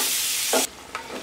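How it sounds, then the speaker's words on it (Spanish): Chopped tomato being stirred into onion and chorizo frying in a pan, a loud steady sizzle with a brief scraping stir partway through, then a quieter sizzle, no voices. "ahora le voy a estar agregando todo el jitomate ya picado. Voy a mezclar muy bien para que se fría todo junto."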